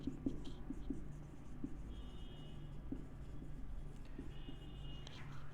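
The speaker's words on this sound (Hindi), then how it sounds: "तो मैं लिख देता हूं इन द मेमोरी ऑफ" Chalk or marker scratching on a board during a current-affairs lecture, a run of short taps and strokes at close range against a steady low background hum.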